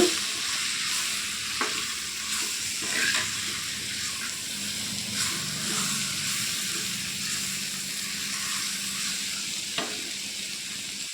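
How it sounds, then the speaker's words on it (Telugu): Ginger-garlic-cumin paste frying with drumstick pieces and onions in a pan for an egg, drumstick and dried prawn gravy curry, a steady low sizzle with occasional spoon scrapes and clinks, no talking. "ఈ అల్లం వెల్లుల్లి పేస్ట్ పచ్చివాసన పోయేంత వరకు కూడా చక్కగా వేయించుకోవాలి"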